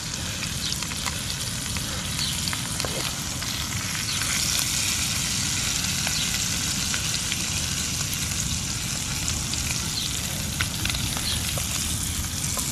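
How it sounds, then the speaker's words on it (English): Wild river trout fries skin-side down in hot oil, giving a loud, dense, continuous crackling sizzle with fine pops that holds steady throughout, with no talking. "You hear that nice crispy skin on there."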